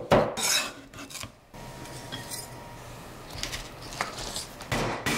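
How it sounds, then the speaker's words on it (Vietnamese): Garlic minced with a knife on a cutting board, giving scattered close knocks and light scraping taps at a moderate, uneven pace, fairly quiet. "Phần tỏi thì mình cũng băm nhỏ tương tự."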